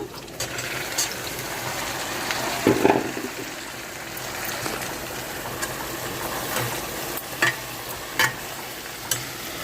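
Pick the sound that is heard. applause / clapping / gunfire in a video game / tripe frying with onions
tripe frying with onions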